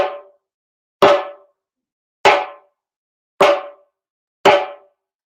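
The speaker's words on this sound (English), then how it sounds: "the slap sound sounds like this" Five sharp hand drum slaps, bright and cracking with a short ringing decay, spaced about a second apart with silence between.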